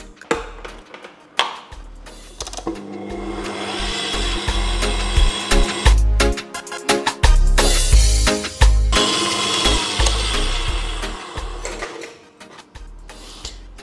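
Electric mixer beating sugar cookie dough with eggs, a loud whirring motor with uneven, clattering bursts as the beaters work through the mixture, rising and easing over several seconds.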